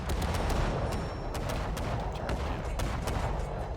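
World War I-era primary ship guns fire in World of Warships Legends, rapid repeated booming shots in a fast irregular volley, loud and close throughout with no talking.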